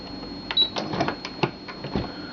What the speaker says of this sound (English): You notice that the machine is going back and forth now, so it's actually double stitching it